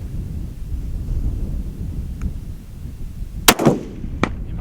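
A single long-range precision rifle shot cracks sharply out of steady outdoor wind noise, its loud report rolling briefly away, followed moments later by a fainter second sharp crack.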